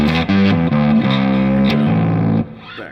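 An electric guitar played through an Earthquaker Devices Blumes distortion pedal with reverb gives a loud, heavily distorted sequence of thick chords that ends in a reverb tail.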